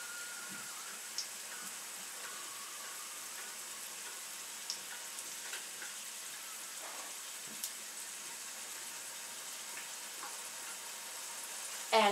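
Homemade ground beef pasties frying in hot oil, a steady soft crackling sizzle with scattered small pops, constant and moderately quiet throughout, no talking.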